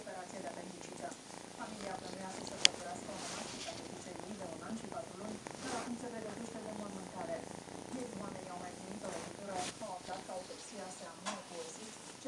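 A domestic cat purrs softly and steadily close by, a low continuous rumble running under a person talking throughout.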